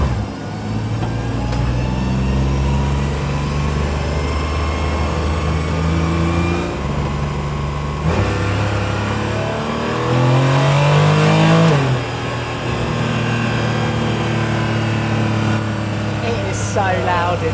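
Cabin of a Porsche 981 GT4 Clubsport race car driven on a public road: the engine revs climb loudly through several gears, dropping at each shift, then surge to a high, strained peak before easing off.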